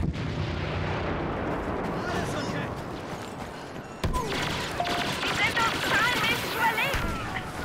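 Heavy gunfire rattles on continuously in a Star Wars Battlefront match, dense overlapping shots and blasts filling the whole stretch, a sharp burst near the middle with higher pinging tones after it.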